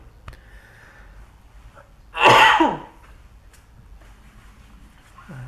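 A single loud, harsh cough bursts out once in a quiet room, followed by low background noise.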